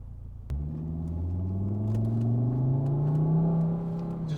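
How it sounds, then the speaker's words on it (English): Exhaust growl from a 20-year-old Volvo T5 five-cylinder engine fitted with an upgraded exhaust, starting abruptly and holding a loud, deep, rising drone as the engine revs, close by with no talking. "That exhaust tone is just perfect."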